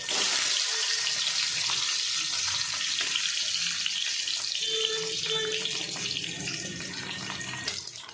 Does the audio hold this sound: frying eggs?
yes